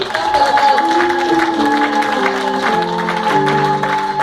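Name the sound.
church congregation applauding the Lord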